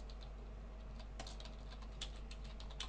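Quick light taps on a computer keyboard, a steady patter of keystrokes over a constant low electrical hum, close but fairly faint, no talking.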